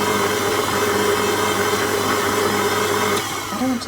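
A steady electric mixer whirs on a gentle folding setting through blondie batter, a constant buzzing drone that shifts slightly near the end.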